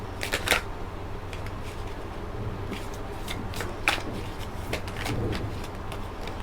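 Tarot cards being drawn and shuffled during a reading, giving a few soft, papery snaps and slides over steady low room hum, with two sharper flicks standing out.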